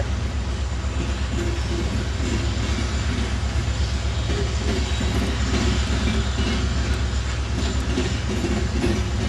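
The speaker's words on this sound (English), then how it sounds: "You can hear that EMD is working hard." A CSX train of empty hoppers rolls by behind an EMD diesel locomotive, a steady low engine drone under continuous rumbling and clickety-clack wheel noise at moderate distance.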